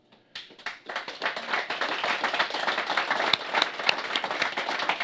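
Audience applause at the close of an evening university event, a sustained wash of many hands clapping that rises quickly and stays dense and steady throughout.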